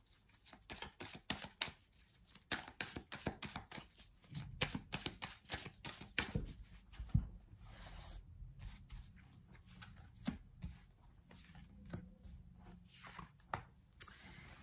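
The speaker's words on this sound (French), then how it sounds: "on va prendre 3 cartes du tarot persan de Madame Indira" Close, rapid flicks and slaps of Persian tarot cards of Madame Indira being shuffled and drawn, an irregular run of crisp clicks and soft thuds at quiet level with no voices.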